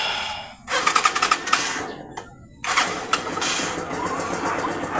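A Keeway CR152 motorcycle with a rusty engine cranks with a run of quick clicking starter bursts, pauses, then catches and settles into a steady, fairly loud idle.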